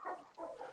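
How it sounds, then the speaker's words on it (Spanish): Dogs barking at a home in a brief burst of two or three close barks, heard alone. "Están súper ladrando a mis perros acá."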